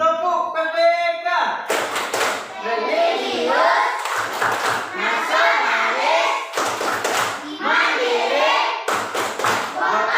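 A classroom of children claps in rhythmic bursts while chanting together in a school group clapping routine, sharp slaps punctuating their loud unison voices.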